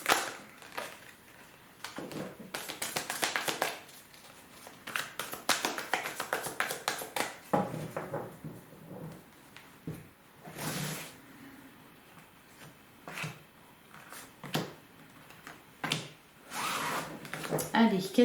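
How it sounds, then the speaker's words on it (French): Tarot cards being shuffled and drawn for a reading, with crisp riffling and flicking bursts in quick clusters early on, then sparser snaps and taps as cards are laid down, mixed with quiet talk. "Allez, on va tirer 3 cartes."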